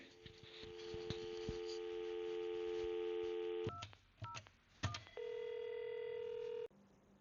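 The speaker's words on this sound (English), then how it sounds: "It sounds just like a normal dialing from a normal phone" Dialing tones on an Avaya IP Office desk phone: a steady tone, then a few short keypad beeps and a longer held tone before it cuts off. Close and clear, no talking.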